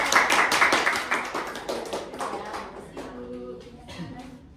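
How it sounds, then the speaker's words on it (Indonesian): Classmates clap after a microteaching phone-call role play, brisk clapping that is loudest at the start and fades out, with voices chattering over the tail end. "tepuk tangan"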